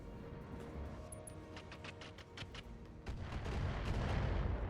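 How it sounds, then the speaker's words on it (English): Missile strikes against a mech in the game RogueTech, a rapid series of sharp impact thumps and crackles that build into a heavier rumbling barrage, heard faintly. "Well, that was one missile hitting."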